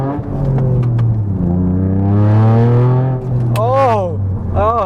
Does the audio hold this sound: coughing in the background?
no